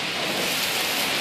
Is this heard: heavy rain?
yes